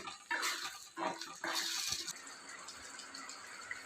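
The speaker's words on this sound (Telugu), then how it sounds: "కొంచెం దీనికి తగిన వాటర్ వేసుకుందాము" Water splashes and pours in a few short bursts into a cooking pan of cashew paneer curry base in oil, then settles into a soft, steady hiss; close and fairly quiet.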